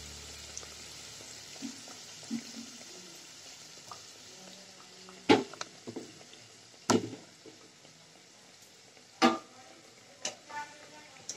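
Nimki dough pieces for crispy Odisha namkeen fry in oil over a low flame with a soft, steady sizzle, broken by a few sharp utensil clinks and scrapes from stirring.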